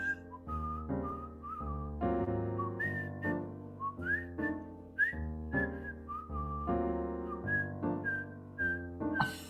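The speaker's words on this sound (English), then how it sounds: "Whistling takes a lot." A person whistles a lilting melody, clear sustained notes gliding between pitches over a low, steady musical backing, with no talking.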